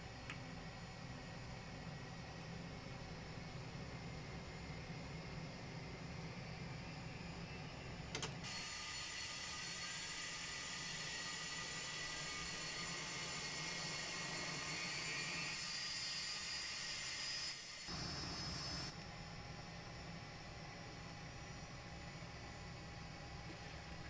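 Avro RJ-100 engine 1 spooling up in a Prepar3D flight simulator: a loud, steady jet roar and rising whine fill the cabin, with a brief dip near the end before the noise continues.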